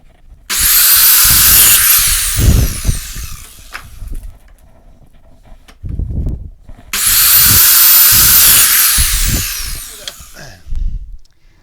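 Two loud bursts of a table saw's high whining cut as wooden sled fences are trimmed to size, each lasting a few seconds with thumps and handling knocks between them.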